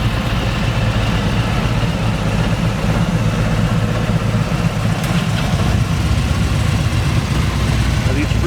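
A 2022 Harley-Davidson FLRT Freewheeler factory trike idles close by with a steady, deep, rumbling engine note that holds evenly throughout.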